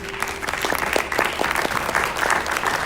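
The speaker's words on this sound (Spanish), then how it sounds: "denle un aplauso al Señor" A church congregation at a Spanish-language worship service breaks into brief, continuous applause: a close, even wash of many hands clapping for a few seconds.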